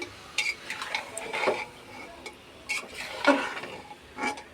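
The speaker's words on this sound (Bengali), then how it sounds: "খাসির মাংসগুলো ভালোভাবে মশলার সাথে কষিয়ে নেবে" Goat meat being stirred with spices in a pan for an Eid-style bhuna, with a spoon scraping and clinking in irregular strokes over a low, steady sizzle, close up and alone.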